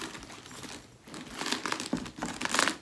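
Crinkly plastic packaging rustled and crumpled inside a thrifted handbag with a tassel, close and crisp, in uneven bursts with short pauses.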